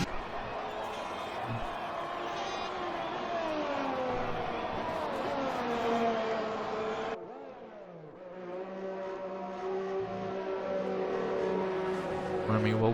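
McLaren race car in a racing video game, a steady whining engine drone rising and falling with gear changes, a brief drop in level partway through, heard under quiet commentary.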